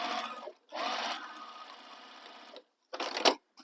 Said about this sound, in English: And then sew down that side edge